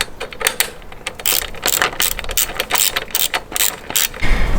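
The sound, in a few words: removing 5 mm hex bolts on a motorcycle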